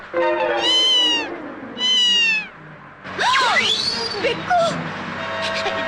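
A cat meows twice, loud and close, in quick succession during a car journey, followed by more mewing mixed with voices talking.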